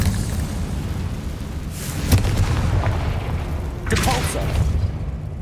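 Two magical Confringo blasts go off in Hogwarts Legacy, each a loud booming burst with a crackling tail, spaced a couple of seconds apart over a low, steady rumble.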